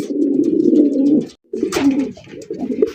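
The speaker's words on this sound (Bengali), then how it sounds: "এক জোড়া সবজি রেসার কবুতর, ডাকের সেরা, একদম লাইট কালার মধ্যে" A pair of large, light-coloured racer pigeons coos nearby, two loud, drawn-out throaty calls separated by a brief pause, with no talking.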